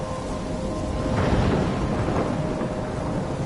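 A thunderstorm in the video game Life is Strange: dense rain hisses over a deep rolling rumble of thunder that swells midway, a loud and enveloping storm with no voices.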